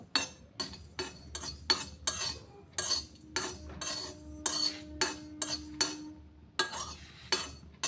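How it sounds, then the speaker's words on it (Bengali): Tea leaves roasting in a pan are stirred with a utensil, giving a regular run of sharp metallic scrapes and clinks at about two per second, close and moderately loud, with no talking. "বেশিক্ষণ নাড়াবো না, সামান্য একটু শুধু ভাজবো।"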